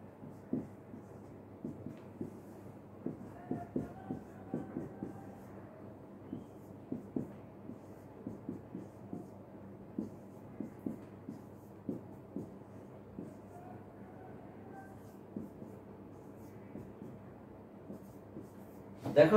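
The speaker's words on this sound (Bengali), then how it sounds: "আমরা কতগুলো সংখ্যা লিখছি," Numbers are written on a board in a math class, heard as a series of sharp taps and short scratches in irregular bursts, close but fairly quiet, with no talk over them.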